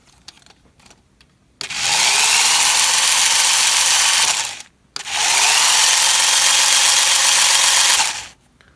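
Mould King RC motorcycle toy's electric motor whirring loudly in two sustained bursts of about three seconds each, spinning up sharply, running steady, then cutting off, with a short quiet gap between.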